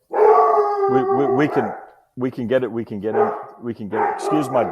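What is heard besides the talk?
pet dog barking and howling indoors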